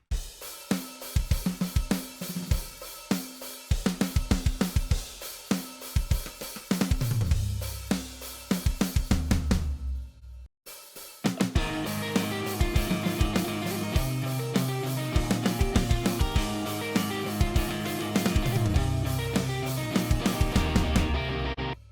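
A programmed drum groove of kicks, snares and rim clicks plays, then after a brief gap returns fuller, with rolling tom fills, continuing steadily without any voices.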